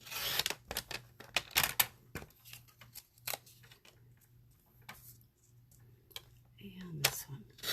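A paper trimmer slices through cardstock for a handmade coffee card, giving sharp clicks and taps spread irregularly across the seconds, ending in a short scraping slide of the blade.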